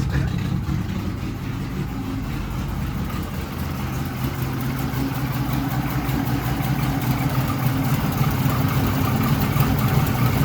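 A 1966 Ford Mustang with a turbocharged 250 inline six idles close by, a steady low rumble with a slight lift in level toward the end and no talking.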